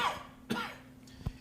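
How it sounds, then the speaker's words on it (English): A single close cough, with a short throat-clearing catch just after, in an otherwise quiet room with no talking. "I just was going to cough."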